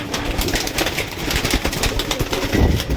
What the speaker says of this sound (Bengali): দাঁড়াচ্ছে না পায়রা এক জায়গায়, খুব চালাক পায়রা